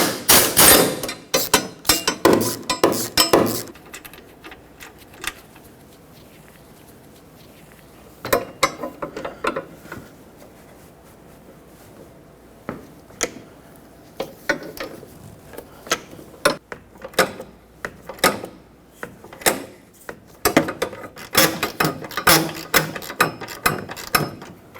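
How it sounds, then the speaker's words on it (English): Hand tools loosen the hood hinge bolts on a 2011-2016 Ford F-350 using a 13mm socket on a ratchet, giving bursts of close, sharp metallic clicking and clanking. The bursts are separated by quieter pauses, and no one speaks. "use a 13mm socket on a ratchet, or just use a wrench and remove the two bolts holding it on to the body"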